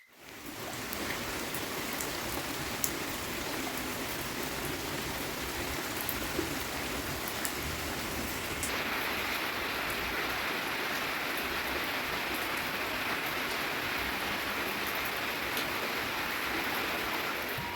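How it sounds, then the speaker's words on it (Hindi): Steady, heavy rain pours down without pause on a cold night, a dense continuous hiss of drops hitting surfaces. "आप लोगों के यहाँ ऐसी बारिश हो रही है कि नहीं"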